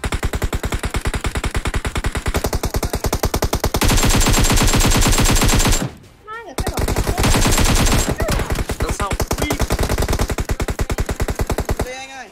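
Automatic weapons fire in PUBG Mobile on the Vikendi map, long rapid bursts of loud gunshots with a short gap in the middle and voices talking underneath.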